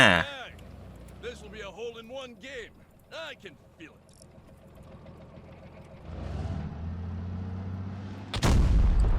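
In the World of Tanks Blitz video game, a tank cannon fires with heavy booms under engine rumble, ending in a loud close blast, while a person talks over it.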